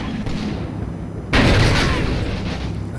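Shots and shell impacts in the World War II wargame Combat Mission, set in Italy in August 1943, a rumbling battle backdrop broken by a sudden heavy boom that keeps echoing, with distant gunfire continuing.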